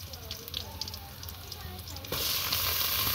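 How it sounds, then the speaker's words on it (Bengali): Polao rice frying and being stirred in a pan over a clay stove, a steady crackling sizzle that grows louder and denser partway through, close and continuous. "তো লাড়া দিলাম পোলাও চালটা"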